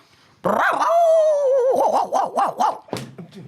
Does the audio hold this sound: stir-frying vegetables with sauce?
no